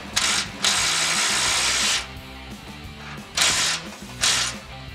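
Impact wrench tightening a bolt on a catalytic converter shield under a Toyota Tacoma, loud close buzzing bursts: two long runs, then two shorter hits after a pause, over faint background hum.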